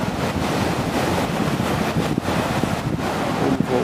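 Waves wash continuously onto Boa Viagem beach at dusk, a broad roaring surf heard alone and mixed with heavy wind buffeting the microphone.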